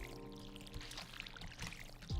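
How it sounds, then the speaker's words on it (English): Watering crops in Stardew Valley makes a faint, soft pouring splash under quiet background music, with a short burst at the end. "I should get our watering done."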